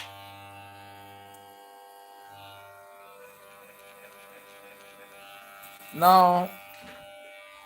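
An electric hair clipper with a freshly sharpened blade runs with a steady, close mechanical buzz throughout. A voice speaks briefly near the end.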